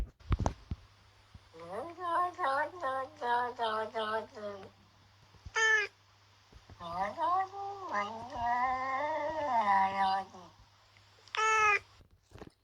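Two cats meow back and forth in long runs of close, clear calls, alternating like a conversation, with brief pauses and a few soft knocks between them.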